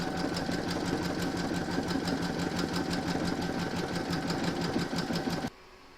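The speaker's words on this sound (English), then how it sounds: "I've also slowed my machine right down. We're now going to stitch round number 14." Sewing machine running at a slowed speed, stitching a quilted table runner with yellow thread; a steady, continuous mechanical whir with fast even needle ticks, close and alone, stopping abruptly near the end.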